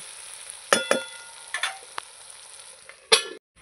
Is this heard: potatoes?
yes